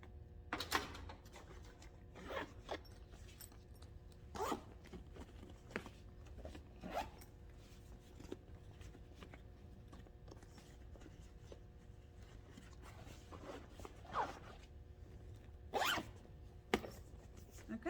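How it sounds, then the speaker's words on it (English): A zipper pocket on a fabric tote bag is closed in several short, quiet zipping bursts spread out with pauses between them, close by, with no talk. "Close up your zipper pocket"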